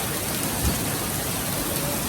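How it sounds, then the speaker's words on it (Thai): Steady rain pours down in Phuket, a dense, even hiss of drops on surfaces that holds at the same level throughout, with no voices and a low rumble underneath. "ฝนตกภูเก็ต"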